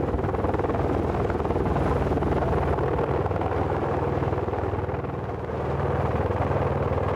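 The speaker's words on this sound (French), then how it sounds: "L'hélicoptère livre cette lourde structure de bois, une terrasse monobloc de 700 kg qu'il faut installer au centimètre près." A helicopter flies over the Alps carrying a 700 kg single-piece wooden terrace, its steady, loud, close rotor thump and engine drone continuing without a break.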